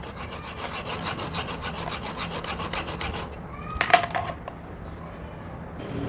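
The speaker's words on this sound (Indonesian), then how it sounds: "pemotongannya dengan manual gergaji besi" Rhythmic back-and-forth strokes of a hacksaw cutting a metal busbar for a battery jumper, fairly close, then the sawing stops and a few scraping sounds and clinks follow.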